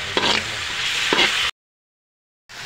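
Meat sautéing with tomatoes in a pan for ginisang upo, a steady close broadband sizzle with a couple of brief stirring scrapes, cut off by a second of silence before the sizzle resumes.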